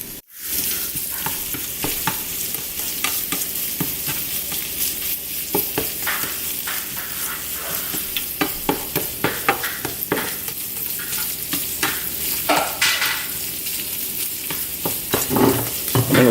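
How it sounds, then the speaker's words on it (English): Omelette ingredients of egg, ham and sausage sizzle loudly and steadily in a greasy frying pan, with the frying hiss continuous throughout and frequent scraping and stirring clicks on top. "You can hear it start to sizzle."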